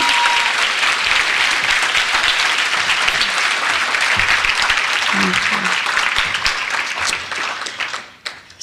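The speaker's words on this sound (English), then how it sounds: "Just one more round of applause for Iosefa" Audience applause for Iosefa at a freshman leadership conference evening session in San Jose, a loud, sustained crowd clapping with scattered cheers that fades out near the end.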